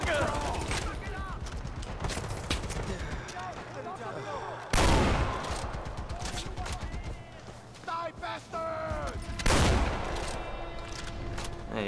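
Heavy gunfire from a mounted machine gun and other weapons in the video game Far Cry 4, with dense bursts and several loud blasts throughout, mixed with players talking.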